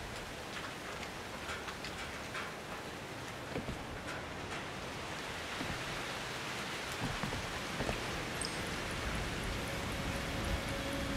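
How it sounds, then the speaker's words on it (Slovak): Steady rain falls in the horror video game Outlast 2, a dense, even hiss of drops with scattered ticks and a faint tone toward the end, constant throughout with no talk. "Čo oni, krvavý dážď."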